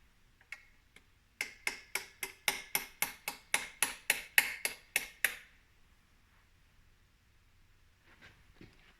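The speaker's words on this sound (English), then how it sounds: "I'm going to use a 19mm deep socket. It's about the same diameter as the outside, so I'll be able to just kind of tap it in nice and level." A transmission seal on a 2003 GMC Sierra's 4L60E is tapped into place with a 19mm deep socket: about a dozen sharp, evenly spaced metallic taps in a quick steady rhythm, close and distinct, then quiet.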